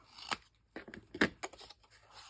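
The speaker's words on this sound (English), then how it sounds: "So now I'm also going to lightly trim the side pieces." Scissors snip the side pieces of a craft sewing box, a quick series of short, crisp cuts in an uneven rhythm, quiet and close, with no talking.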